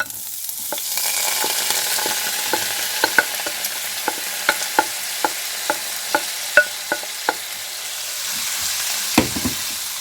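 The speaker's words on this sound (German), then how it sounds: "Danach gebe ich den Lauch in die Pfanne" Chopped leek sizzling in oil in a hot pan on a stove at maximum heat, a steady frying hiss punctuated by regular sharp clicks of a utensil stirring against the pan.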